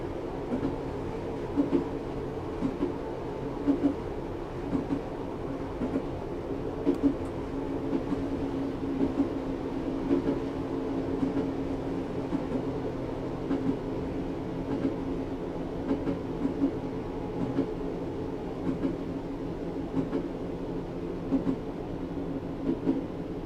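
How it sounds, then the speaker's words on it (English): A train coasting with power shut off in Train Simulator 2018 on the Blaenau Ffestiniog to Llandudno route, AP class: a steady low rumble of rolling wheels with faint periodic rail clicks, continuous and even throughout. "At this point I'm now going to shut off the power to allow the train to coast."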